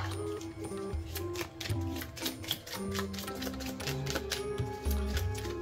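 Board game cards for Final Girl being shuffled on a table, a rapid run of crisp riffling clicks and flutters repeating through several quick passes, close and fairly loud with no voices.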